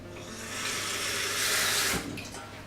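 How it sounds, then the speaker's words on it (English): Water pours steadily into the bottom of a cooking pot in a kitchen, a continuous splashing rush that swells and then cuts off near the end, close and alone. "I always just add a little bit of water"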